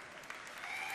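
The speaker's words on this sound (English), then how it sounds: "Yeah, you can applaud for guilds." Audience applause at BlizzCon 2011 during a Diablo 3 open Q&A panel: a dense, steady wash of clapping from a large hall crowd that swells slightly toward the end, with no talking over it.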